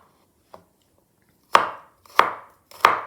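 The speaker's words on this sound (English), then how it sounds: "So I just slice it up." A knife slicing garlic cloves on a cutting board for soup: one faint light tap, then three crisp, loud, evenly spaced chops ringing close up, with no voices.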